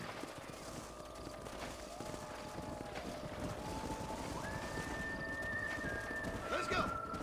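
Horses neigh and hooves clip-clop through a Red Dead Redemption horse-herding scene, faint and distant under wind and a sustained tone, with voices speaking over parts.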